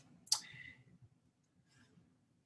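A single sharp computer mouse click, close and quiet, followed by a fainter second click in an otherwise near-silent room.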